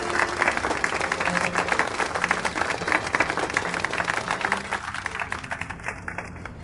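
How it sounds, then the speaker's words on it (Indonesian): Applause at a gala dance as the biggest sponsor is welcomed to lead the first dance, dense steady clapping from a crowd filling the whole stretch at even loudness. "tepuk tangan."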